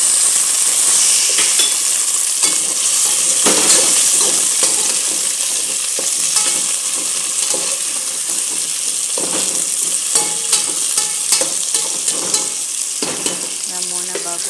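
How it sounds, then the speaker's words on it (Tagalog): Squash being added and stirred into browned onions frying in a pan, with a loud, continuous sizzle and hiss broken by scraping and clattering strokes, heard up close with no voices. "Lagyan natin ang ating kalabasa."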